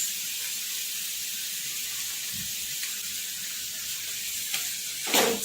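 Half-cooked vegetables sizzle in a pan with Schezwan sauce and soy sauce, making a steady close hiss, with a brief stirring scrape near the end.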